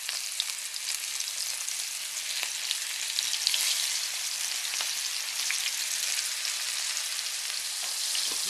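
Walleye fillets fry in hot oil in a pan, giving a continuous soft hiss and crackle with scattered pops, steady and fairly quiet with no talk.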